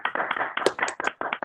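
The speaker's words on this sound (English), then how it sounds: "let's just show our appreciation for Andy" Applause for Andy during an online board meeting of the Hudson River Valley Greenway: a short burst of clapping from several participants, dense, uneven and fairly soft, with sharp slaps overlapping through the whole moment.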